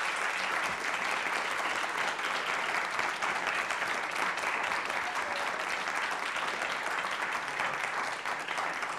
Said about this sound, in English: If you can join me in a round of applause for each member of our panel